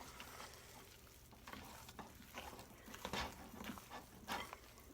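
Spoon stirring red velvet boxed cake mix cookie dough in a bowl, a soft, quiet scraping and swishing in irregular strokes with faint clinks, no one talking.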